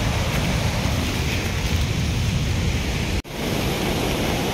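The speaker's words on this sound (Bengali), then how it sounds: "ঝর্ণা এদিকেও ঝরছে" A waterfall pours down a mountainside in the rainy Annapurna region, making a loud, constant roar of rushing water that cuts out for a split second before resuming.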